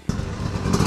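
Off-road motorcycle on a dirt practice course as the rider comes off the brakes and reapplies throttle, a brief mid-distance engine note rising in a quick rev.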